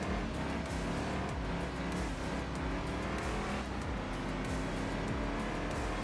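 Car engine racing around Tsukuba circuit in the PS2 game Enthusia Professional Racing: a steady, continuous roar with revs rising and falling through gear changes, loud and uninterrupted throughout.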